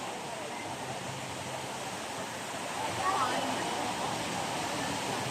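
A steady, even roar of falling water fills the space at the Jewel Changi Airport Rain Vortex, the huge indoor waterfall, swelling slightly louder partway through with no break.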